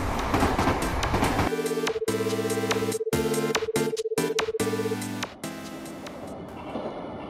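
Animated TV opening where a cartoon train passes by to cheerful music, with rhythmic clickety-clack chugging, a sustained whistle-like tone and bouncy chords, ending as the music fades into quieter train rumble.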